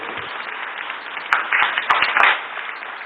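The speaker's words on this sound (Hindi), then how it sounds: "एक बार ताली बजा के स्वागत करो।" A group claps to welcome a high-scoring student, steady crowded applause with a few louder sharp claps in the middle, heard over a narrow, muffled recording.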